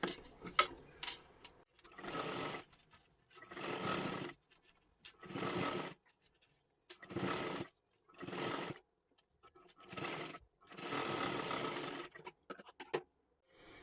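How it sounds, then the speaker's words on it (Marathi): A sewing machine runs a double stitch along a puff sleeve in about seven separate bursts, each a few seconds of close whirring broken by short silent pauses. "आता परत एकदा आपल्याला ह्याच्यावरती डबल शिलाई मारून घ्यायची आहे"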